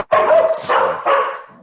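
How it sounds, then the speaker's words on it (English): A dog barks close and loud, three bursts in quick succession, answering a doorbell that has just rung. "That's my dog, and that's the bell going,"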